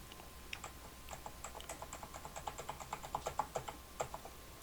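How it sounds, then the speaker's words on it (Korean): Repeated keyboard shortcut presses on a computer keyboard while working in Adobe Illustrator, a run of close, light, evenly spaced clicks that grows slightly louder and quicker toward the end. "그럴 때 누르는 게 컨트롤 D"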